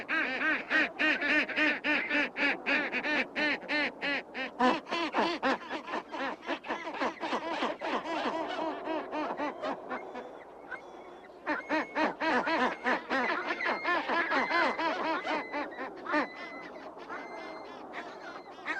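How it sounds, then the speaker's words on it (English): Skuas give harsh, rapid, quacking calls near an Adelie penguin colony in Antarctica, a loud, dense, continuous chatter of repeated cries that briefly thins midway before picking up again. "Skuas are relatives of seagulls, but they're bigger and more powerful."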